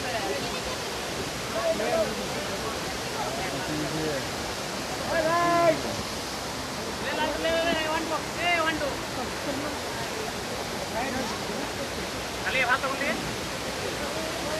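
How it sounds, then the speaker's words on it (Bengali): Loud, steady rushing water roars continuously like a waterfall pouring over rocks, with voices talking faintly over it now and then. "পুরো পাথর ভেঙে ঝর্ণা নামছে"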